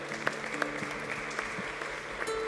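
An audience at a Christmas concert by a local music group in Barberà del Vallès claps for a singer, a soft, steady patter of applause with a few sharper individual claps standing out, fairly distant and quiet.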